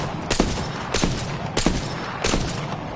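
A slow-firing gun in a video game shoots four evenly spaced, loud, sharp bursts, each shot followed by a brief decaying tail, close and alone without talk.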